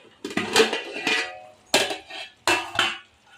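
Metal clatter of a pot lid being lifted off a simmering Andhra-style mutton curry pot, three separate clanking bursts, close and fairly crisp, with scraping ring between them.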